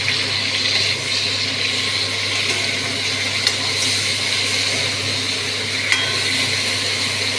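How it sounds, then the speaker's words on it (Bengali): Cauliflower sautéing in a pan with a garlic, tomato and peanut paste gives a steady, even sizzle with faint stirring ticks, continuous and fairly close, with no talking. "ভালো করে রসুনের গন্ধ যাতে না থাকে, ওই কপির সাথে কষাবো।"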